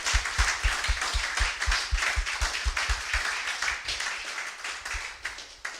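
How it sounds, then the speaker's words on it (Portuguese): Congregation clapping together at an evening church service, a steady run of fairly close, rhythmic hand claps filling the room without pause. "Convido você a dar uma salva de palmas para essa palavra"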